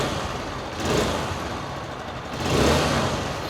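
Honda XR125 commuter motorcycle engine, still cold after warming up, revved twice: two swelling bursts of mid-pitched engine noise rise over a steady idle rumble, close by, with no talking.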